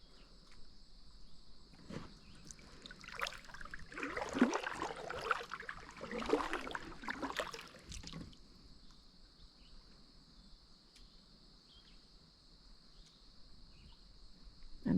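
Kayak paddle strokes splash and swish through the water of a quiet channel for a few seconds, soft and near, over a steady high insect drone that continues alone afterward.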